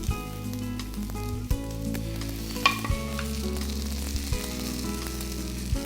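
Egg sizzling and frying in an oiled pan for chow chow bath, stirred with a utensil that gives sharp scraping clicks against the pan over a steady crackle. Close and continuous, with no voices.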